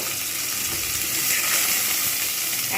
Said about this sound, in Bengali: তেল গরম হয়ে গেছে, মাছগুলো আমি কিন্তু ভেজে নেব।